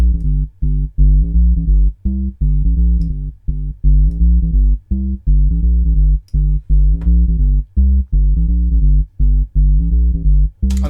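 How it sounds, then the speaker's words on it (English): Layered reggae synth bass line played staccato with shortened notes, a two-bar pattern at double tempo from a rumours riddim, repeating steadily and loud on its own with short gaps between notes. "that's the main bass line, 2 bars long at double tempo"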